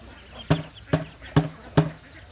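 Ducks being fed organic feed on a farm give four short, loud quacking calls, evenly spaced about every half second, close by with no talking.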